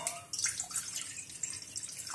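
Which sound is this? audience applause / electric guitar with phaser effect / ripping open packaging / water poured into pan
water poured into pan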